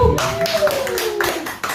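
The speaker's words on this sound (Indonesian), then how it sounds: "Tuh, tepuk tangan." Several hand claps ring out at an uneven pace, close and crisp, over a faint sliding tone in the background.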